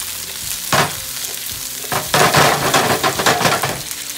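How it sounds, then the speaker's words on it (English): Food sizzles and crackles in a hot pan, loud bursts of frying as vegetables are stirred and tossed, close by. "As soon as you put the vegetables down, you wanna hear that sizzle."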